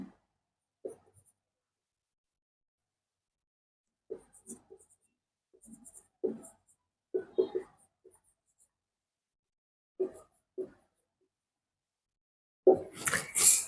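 A pen writes on paper in short, scattered scratching strokes with quiet pauses between them, close and fairly faint, ending with a louder rustle.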